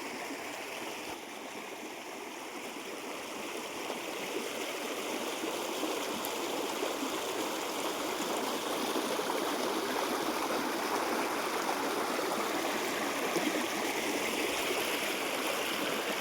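Steady rushing of the Krishna River flowing over stones in hot summer, low water, a continuous broad wash with gurgling texture, fairly close and unbroken, no voices.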